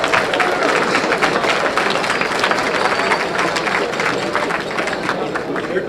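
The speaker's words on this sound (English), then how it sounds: "A big round of applause." Lively applause and cheering from a crowd at an opening ceremony in a college hall, with dense clapping and scattered shouts and voices mixed throughout, holding strong for the whole stretch.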